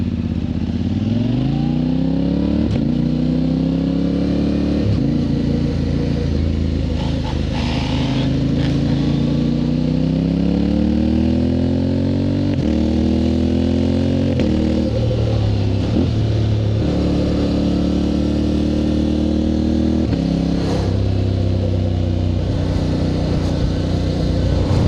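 A 2025 Yamaha Tenere 700 Rally fitted with an Akrapovic exhaust and a quickshifter rides an off-road trail, its engine loud and close, rising through revs with sharp upshift steps and some rattle over rough ground.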